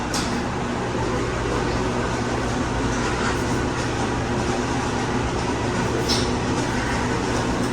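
Loud, steady whooshing roar of a motorized exhaust fan, constant broadband noise with a low hum throughout.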